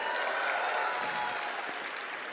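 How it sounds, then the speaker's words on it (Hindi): Audience applause at a financial astrology talk, a steady, full crowd of clapping filling the room throughout, with no break or voice over it. "ताकि आप लोग और तालियां बजाएं।"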